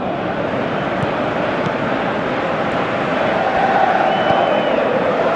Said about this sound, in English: I think you can hear the approval from the support all around the stadium.